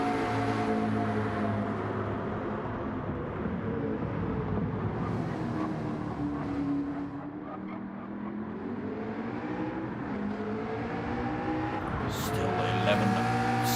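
McLaren GT3 race car engine in a racing video game league round at Tokyo Expressway, a steady continuous drone with shifting pitch sweeps as the car is pushed hard, sustained throughout with commentary faintly underneath.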